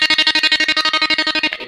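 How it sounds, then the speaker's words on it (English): Electric guitar runs through a signal cutter effect that chops the sound into rapid, evenly spaced on-off pulses, about nine per second, loud and close, before the chopping stops near the end. "Then I mapped the next button to a Max for Live effect I built myself, which is a signal cutter. And it sounds like this."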